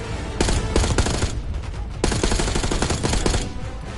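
Sustained covering gunfire in Call of Duty Black Ops 6, dense overlapping automatic bursts rattling close and loud for several seconds, briefly thinning before another heavy volley, with no voices.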